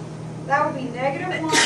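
A single quick sneeze bursts out near the end of a short stretch of someone talking through a math lesson on negative numbers.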